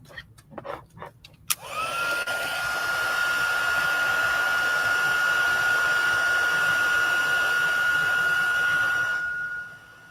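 A heat embossing tool blasts steadily over a stamped card while making a birthday gift set with a Stampin' Up Wildflower Birthday bundle. The loud, close hairdryer-like whine runs about eight seconds after a few brief handling clicks.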